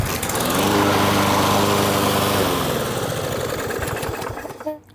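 A Briggs & Stratton 550EX walk-behind lawn mower runs loud and close with a steady harmonic engine drone, the pitch dropping slightly midway as it settles, before cutting off abruptly at the end.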